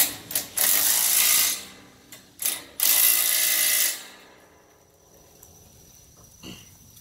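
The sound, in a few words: ratchet cranking down bolts on a ramp dovetail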